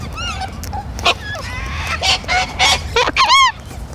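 Pet parrots squawking loudly indoors, a series of harsh honking calls and rising whistles in quick irregular bursts, close and prominent.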